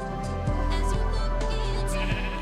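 Sheep bleat in the Minecraft video game, several loud, close blocky bleats in quick succession over a steady background drone of the game.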